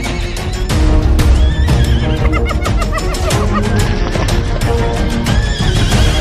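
Several horses neigh and whinny in fright as hyenas burst from dry grass on the Serengeti, loud overlapping cries with harsh, shaky calls across the whole stretch.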